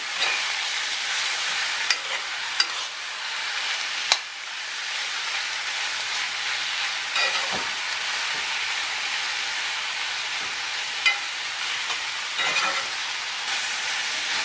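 Ingredients being stirred through garlic oil in a hot pan, a steady loud sizzle and crackle running throughout with a few faint clicks of the utensil, no voices.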